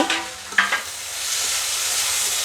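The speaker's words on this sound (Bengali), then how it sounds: "ঢাকনা খুলে আমি খাবার নেড়ে দেব" Cabbage fries with fish heads in a pan, a few quick stirring scrapes and clinks up front, then a steady soft sizzle fills the rest.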